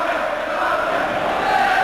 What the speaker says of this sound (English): the crowd here inside Victoria Ground today is generating an awful lot of noise